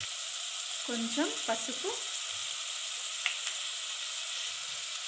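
Onion, carrot, potato and green chili sizzle steadily in a hot pan while cooking kichidi, a continuous frying hiss with brief stirring, and a voice speaks briefly near the start.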